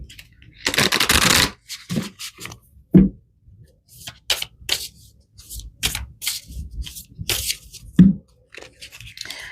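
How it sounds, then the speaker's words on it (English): Tarot cards shuffled by hand in short separate bursts, a long riffle followed by quick flicks and taps, close and fairly soft in a quiet room. "I'm going to pull some more cards here."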